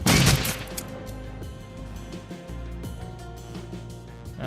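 Gunfire in the video game Shadowrun: Dragonfall: a loud opening blast followed by a dense run of rapid shots and rattling impacts over a low rumbling game soundscape.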